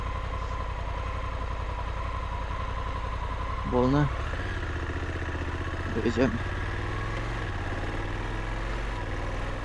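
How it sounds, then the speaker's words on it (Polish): Honda Africa Twin DCT motorcycle idling and pulling away with a steady low engine drone throughout, close to the microphone, as someone speaks briefly over it. "Motocykl bez sprzęgła. Sam biegi zmienia."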